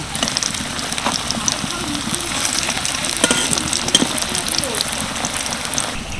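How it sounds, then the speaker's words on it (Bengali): Steady hiss and crackle of stuffed flatbread frying in plenty of hot oil in an ordinary wok, a dense sizzling texture running throughout at close range, with occasional clinks. "যেহেতু এটা আমি নর্মাল কড়াইতে ভাজছি সেই জন্য একটু বেশি তেল দিয়েই ভেজে নিচ্ছি"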